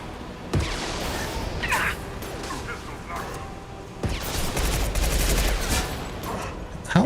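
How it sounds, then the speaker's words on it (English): Shotgun blasts and other gunfire in a Mass Effect 2 firefight, with a couple of loud booming shots standing out over continuous combat noise and game effects. "How is this shotgun getting me from that far away?"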